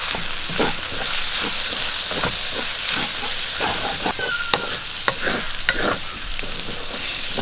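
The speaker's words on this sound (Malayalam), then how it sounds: "നമുക്ക് ശകലം കരിയാപ്പിലിട്ട് കൊടുക്കാം" Curry leaves hit a hot pan already frying ginger-garlic paste for a soy dish, giving a loud, continuous hiss and crackle with sharp pops throughout, and no voices.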